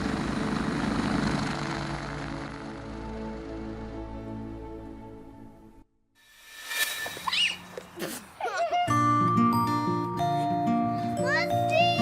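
A helicopter in flight drones loudly with a dense, steady rotor and engine roar for about six seconds, fading out before an abrupt switch to unrelated sounds with voices and music.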